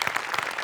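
Audience applause at a Marathi comedy show, a brief burst of dense clapping heard alone.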